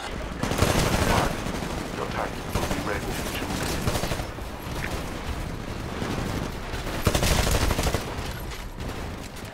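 Rapid automatic gunfire in the Titanfall beta on Xbox One, dense rattling bursts running almost nonstop with louder surges near the start and end, mixed with game effects and some voice underneath.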